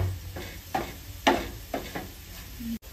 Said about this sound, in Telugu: ఇలా మిక్స్ మొత్తం కాకరకాయలకు పట్టేటట్టు బాగా కలుపుకోవాలి.